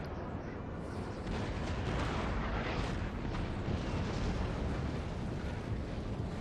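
Cannon fire in the Napoleon: Total War video game sounds as a continuous distant rumble of artillery shots landing, thick and booming, with no distinct separate blasts.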